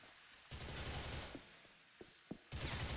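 Gunfire in GTA 4 on PC: a sustained burst of game shots from 0.5 to 2.5 seconds, a few isolated sharp cracks scattered within it, then a second dense burst resuming at the end, moderately loud with no talking.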